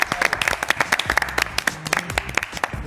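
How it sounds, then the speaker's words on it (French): Audience clapping with steady, dense hand claps for a few seconds at moderate volume, a short burst of applause for a model at a fashion segment. "On l'applaudit Nadège."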